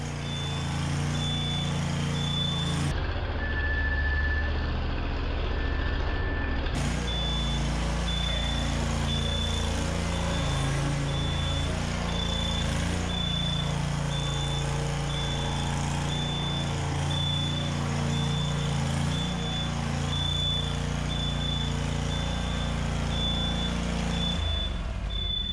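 A fire department truck arriving: a heavy engine idles in a continuous low rumble, with a high-pitched beeping tone that repeats steadily over it and stops briefly near the start.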